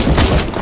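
A grenade blast in the CS:GO zombie escape mod, on the ze_ffvi_oblivion_castle map, lands as one short, loud, dense boom with a crackling, thudding rumble and no trailing silence.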